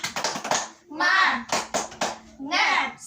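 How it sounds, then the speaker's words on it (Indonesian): Children in a classroom perform a rhythmic 'tepuk semangat' chant-and-clap routine, bursts of sharp hand claps alternating with shouted group voices, close and loud. "Ibu mau dengar tepuk semangatnya dulu, ya."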